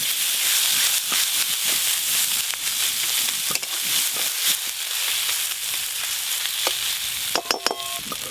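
Chopped tomato hits a hot pan of oil while a Bangladeshi rui and prawn curry cooks, giving a steady, loud sizzle and hiss with a few stirring scrapes and clinks near the end.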